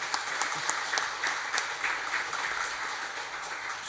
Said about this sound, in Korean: 성가대 한번 박수 한번 더 하겠습니다